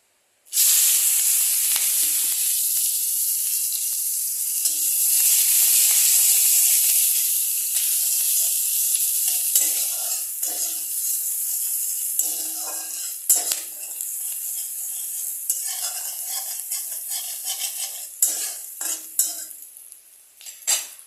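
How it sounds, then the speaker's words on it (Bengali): Chopped onions frying in a little oil in a kadai for a katla fish curry. A loud, steady sizzle starts at once, then gradually gives way to irregular stirring scrapes and clinks. No voices. "দিয়ে এখন আমি পেঁয়াজ কুচিগুলো আগে ছেড়ে দেব।"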